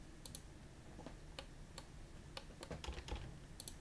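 A keyboard shortcut is typed in CAD software as a short, faint run of crisp key clicks. The taps come in irregular bursts over quiet room hiss, with a few presses falling close together.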